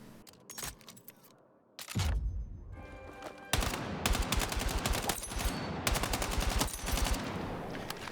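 Gunfire in the video game Battlefield 6 rattles out in quick automatic bursts, sharp and loud, with short pauses between strings of rapid shots and a longer sustained burst in the second half.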